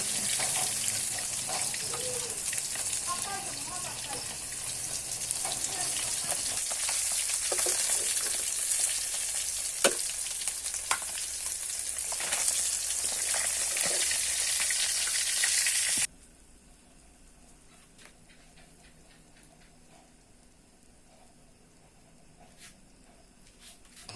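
Fish frying in oil in a wok (kadai), a loud, steady broadband sizzle with scattered pops and crackles that runs for about sixteen seconds, then cuts abruptly to a much quieter, fainter sizzle.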